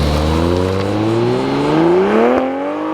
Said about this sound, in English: The exhaust in sport mode makes a lot of crackling noises.